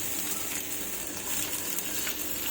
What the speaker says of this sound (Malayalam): ഇത് നമുക്ക് ചെറുതായിട്ടൊന്ന് ഫ്രൈ ചെയ്തെടുക്കാം